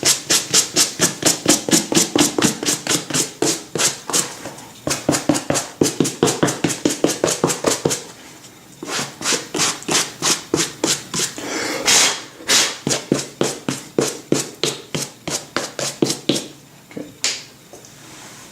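A brush sweeps loose debris off a suede leather cowboy boot in quick, crisp, rhythmic strokes, close and loud, with brief pauses between runs of strokes and no talk.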